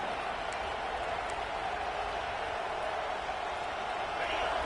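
Stadium crowd at a Texas A&M vs Ohio State football game, a steady distant roar from the stands, even and sustained throughout.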